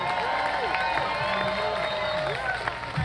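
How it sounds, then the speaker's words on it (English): Outdoor concert crowd at a lagoon music series claps and cheers for a band's backing vocalist, a steady wash of applause with whoops and scattered shouts throughout. "Give a big round of applause for Andre, y'all."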